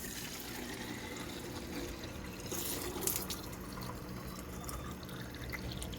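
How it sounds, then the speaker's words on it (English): Water runs steadily into the small tank of a kids' electric squirt gun, a continuous soft splashing trickle that holds at an even level throughout, faint and close with no speech. "let's fill the tank with water."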